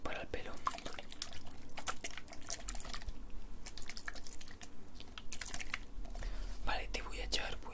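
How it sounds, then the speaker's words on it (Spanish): Rose water splashed and worked into hair during a close-up hairdresser roleplay, soft wet patting and crackling taps close to the microphone, with quiet whispered talk in places. "Y ahora lo que te voy a echar va a ser este agua de rosa"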